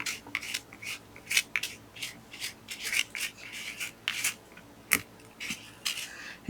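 Paper is scraped back by hand on a winter-window scrapbook layout, a series of short close rasping strokes in an uneven rhythm, fairly quiet.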